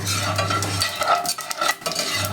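Cumin seeds hit hot oil in a pan with a loud, close, continuous sizzle. A spoon stirs and scrapes through them in uneven bursts.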